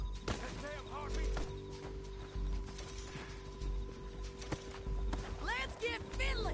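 Galloping horse hooves in Red Dead Redemption 2 thud in a fast, repeating rhythm beneath game voices and shouting, with music and effects mixed in throughout.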